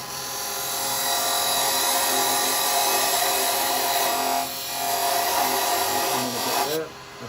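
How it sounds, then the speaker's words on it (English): A thin parting tool cuts into wood spinning on a lathe while turning a small Christmas angel, producing a steady, loud, continuous scraping whine that dips briefly midway and stops abruptly near the end. "I'm going to come in with a thinner parting tool."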